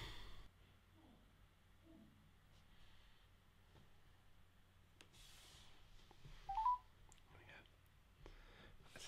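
A telephone number is dialed while calling an entertainment lawyer. A few faint, brief keypad tones sound in a quiet room, with soft breathing and rustling around them.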